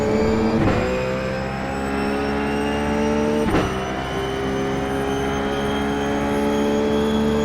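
A Ruf GT3 race car in iRacing roars through Monza with a loud, sustained engine drone, its pitch holding steady and then shifting, plus brief sharper bumps along the way, with no talking.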